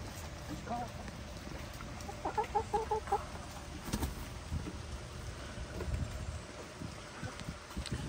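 A few soft clucks from 23-week-old chickens in a short burst, faint against a steady outdoor background hiss.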